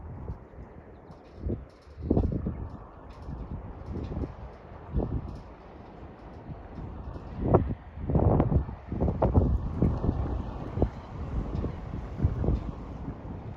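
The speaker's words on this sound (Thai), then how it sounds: "เอาบรรยากาศยามเช้ามาฝาก กับสายลมพัดผ่านแรงแรงมาก" Strong early-morning wind gusts hard against the microphone in loud, uneven buffeting bursts that swell and fade, with a faint background hiss between gusts.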